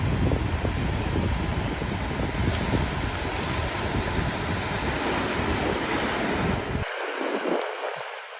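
Ocean surf washing onto a beach at sunset in Cambodia, a steady broad roar of waves with wind buffeting the microphone, continuous and fairly loud until it drops off abruptly near the end.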